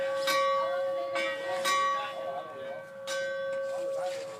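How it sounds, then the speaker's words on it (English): A steam locomotive bell at a railroad museum rings with several clear metallic strikes at an uneven pace, each one ringing on and fading, while people talk nearby. "Ring the bell."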